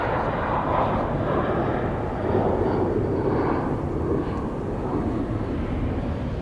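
An Air Serbia airliner takes off at Amsterdam Schiphol, a loud continuous engine roar that swells and holds for several seconds without any voices.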